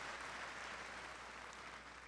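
A church congregation claps steadily and loudly throughout, a dense, sustained wash of applause filling the worship space with no break.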